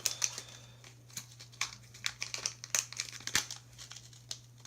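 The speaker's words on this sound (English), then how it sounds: "Packaging does not want to open." Plastic packaging of an ice fishing jig being torn open, a quiet run of crinkling and tearing with scattered sharp rips over several seconds, close up and with no talk.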